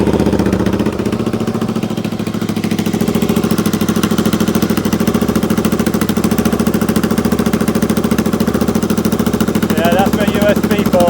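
A Royal Enfield Interceptor 650 engine runs with no silencers fitted, giving a loud, harsh, rapidly pulsing exhaust roar that stays steady and close throughout.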